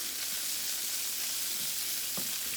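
Onions and peppers frying in a pan alongside bacon, a steady close sizzle with faint scrapes and a few light knocks of utensils.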